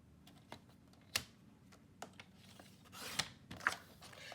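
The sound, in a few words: paper trimmer cutting a strip of paper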